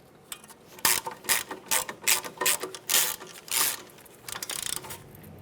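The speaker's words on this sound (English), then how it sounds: "Start in your mounting bolt, make it nice and tight." A hand ratchet tightens a brake hose bracket mounting bolt on a 2006-2011 Honda Civic, giving close, loud bursts of rapid clicking in short repeated strokes with brief pauses between them.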